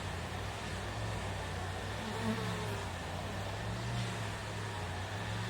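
Honey bees buzzing around a hive frame late in the season, a low steady hum of many bees close by, fairly quiet, with no talking.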